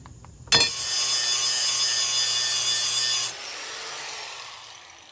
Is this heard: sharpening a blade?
yes